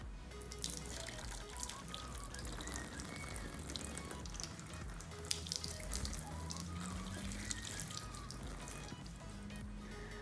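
Water runs steadily from a tap into a cup with a soft splashing flow and faint drips, fairly quiet and uninterrupted throughout.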